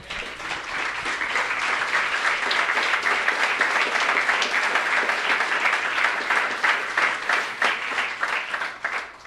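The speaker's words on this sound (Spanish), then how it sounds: "Le damos palmas al Señor." Sustained applause from a church audience, a dense, even wash of clapping that lasts about nine seconds before tapering off at the end.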